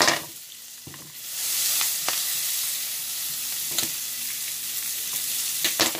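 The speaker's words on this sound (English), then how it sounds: "So my onion is getting a little bit cooked." Onions frying in oil in a pan while cooking a burger meal, a steady close sizzle with occasional clicks of stirring and scraping throughout.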